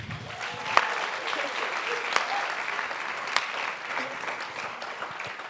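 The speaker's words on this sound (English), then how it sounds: "can we just please clap for Prof again?" An audience at an honorary lecture claps for the professor, a sustained, fairly soft wash of applause with a few sharper individual claps and faint voices underneath.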